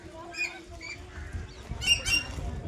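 Chattering lory, a red parrot at a zoological park in Tirupati, gives a few harsh squawks and chirps over low background rumble, near and moderately loud.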